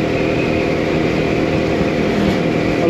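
Motorcycle engine on a Swiss mountain pass, a steady loud drone with wind rush filling the whole stretch, no voices.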